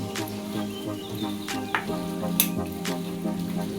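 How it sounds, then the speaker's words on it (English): A spoon stirring macaroni in a pot during a toddler pasta meal: soft scraping and wet clicks over a steady sizzling bed, close up, with a faint tonal hum underneath. "I'll add my macaroni. And stir it."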